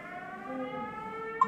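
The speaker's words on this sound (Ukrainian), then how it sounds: "Повітряна тривога." Air raid siren sounding in a Ukrainian school, a steady sustained wail with layered tones held throughout, moderately loud with no talk over it.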